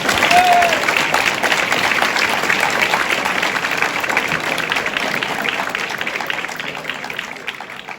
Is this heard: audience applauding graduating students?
yes